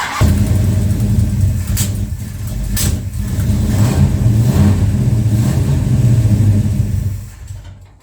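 A Plymouth Road Runner engine running rough and refusing to idle, its deep rumbling revs rising and falling continuously and close up, then cutting out near the end.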